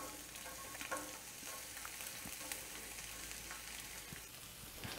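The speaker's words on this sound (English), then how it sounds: "once you get that in there and it sizzles" Steady, quiet sizzling of shallots frying in oil and butter in a pan, a constant crackling hiss with small pops.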